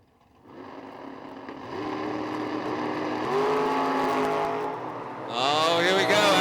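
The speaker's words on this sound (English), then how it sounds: "Oh, here we go, out the top end. Pretty good drag race." A roadster and a Corvette drag racing at a drag strip, their engines building from a quiet start into a loud, rising roar as they accelerate and shift, with an announcer talking over the run.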